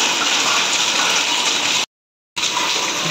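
Heavy rain with wind and hail roars as a dense, loud, continuous wash, cut off by a brief gap of silence before resuming.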